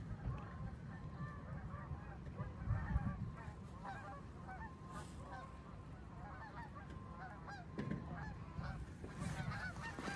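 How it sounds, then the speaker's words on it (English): Geese honk repeatedly as they fly over outdoors near a river in improving weather, a scattered series of moderately loud calls over a steady background din. "we got geese coming over right."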